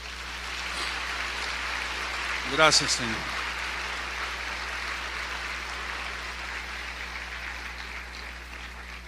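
A church congregation applauds during a Spanish-language service, a steady broadband wash of clapping that runs the whole stretch while a voice speaks briefly over it.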